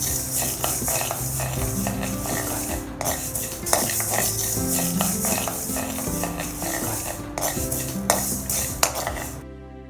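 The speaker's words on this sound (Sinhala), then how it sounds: "අපි දැන් මේ විදිහට උළුහාල් ටිකත් බෙදගමු" Seeds roasting in a dry pan for homemade roasted curry powder, with steady close scraping and clinking of a spoon against the pan over a faint crackle, continuous and busy, no talking.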